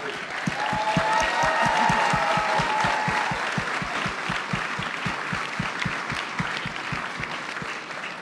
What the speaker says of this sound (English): another round of applause for these Tewaaraton Warriors